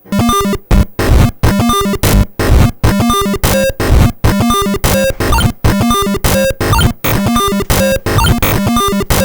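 A harsh, buzzy Atari 2600 chiptune synth, randomized by joystick movement, spits out rapid, jumbled note patterns in choppy bursts separated by brief silences, loud and mechanical.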